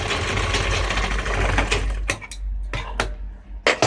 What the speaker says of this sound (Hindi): वो तिकोनी पे हम सिलाई लगा देंगे इस तरीके से